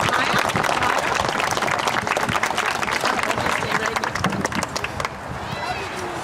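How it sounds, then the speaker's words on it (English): Crowd applause at an outdoor school ribbon cutting, many people clapping briskly and loudly with some cheering and murmuring voices mixed in, tapering off near the end. "How about one more round of applause to these young students?"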